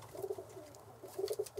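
Birmingham Roller pigeons coo softly nearby in two short clusters of low, throaty notes separated by a brief quiet gap.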